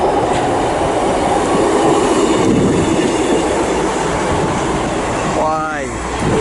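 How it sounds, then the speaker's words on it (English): A Class 158 diesel train on a Cardiff Central to Portsmouth Harbour service pulls into Bristol Temple Meads station, its loud steady rumble filling the platform, with a rising wheel squeal near the end. "arriving in now is going to be a Class 158 from Cardiff Central to Portsmouth Harbour"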